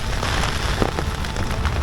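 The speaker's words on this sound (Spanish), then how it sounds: "no es la primera vez que me llueve en la tienda" Rain patters on a tent beside the sea in Mozambique, a dense, continuous drumming of drops with scattered louder taps over a windy low rumble, close and steady, no voices.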